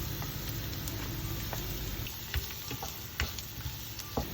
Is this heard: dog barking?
no